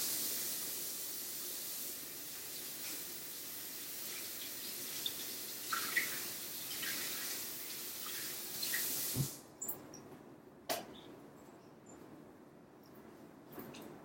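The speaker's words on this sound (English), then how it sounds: "Alright, wash my hands." Water running from a tap while hands are washed during homemade laundry liquid making, a steady hiss that cuts off partway through, followed by a few soft clicks and knocks.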